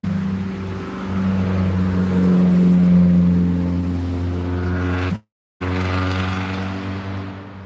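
A mini truck's small engine revs up loudly and holds a droning, buzzy pitch nearby, drops off, then cuts out briefly before resuming its idle.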